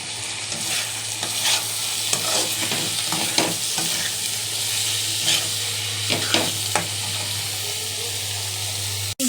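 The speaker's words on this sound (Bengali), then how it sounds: "ভালো করে সব নেড়ে চেড়ে কষিয়ে নেবেন।" Chopped garlic stir-fried with chicken gizzard and liver in a pan: a steady sizzle with repeated scraping stirs of a spatula, close and clear, no talk.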